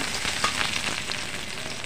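Chopped onion hits hot oil in a large kadai and fries with a steady, soft hiss and crackle.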